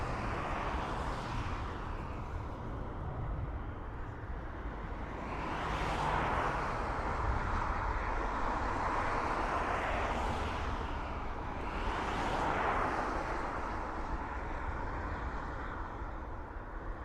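An Emirates airliner passes at Dublin Airport. Its broad, steady jet rumble stays moderately loud throughout, rising and falling in slow swells every few seconds. No voices are heard.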